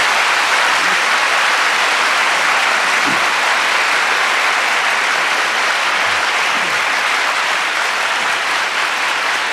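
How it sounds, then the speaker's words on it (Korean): Large lecture-hall audience at a 2004 university special lecture at Yonsei giving sustained applause, a loud, even roar of many hands clapping that holds steady for nearly ten seconds. "박수 한번 치시고."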